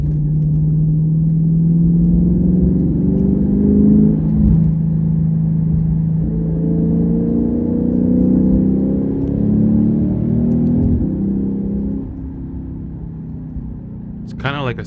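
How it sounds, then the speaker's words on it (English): A Lexus IS 500 with an A'PEXi N1 titanium exhaust gives a steady low drone with rising harmonic tones as it accelerates from about 30 to 40, heard from inside, fairly present but not loud, easing off near the end. "accelerating from like 30 to 40 just to hear the note rise"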